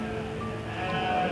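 Goats and sheep bleat while being fed banyan leaves on a farm, a steady close animal chorus with overlapping calls running through the whole stretch.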